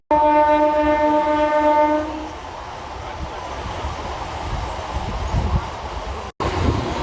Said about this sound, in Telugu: నెల్లిమర్ల నుంచి కూడా మన ట్రైన్ బయలుదేరిపోయింది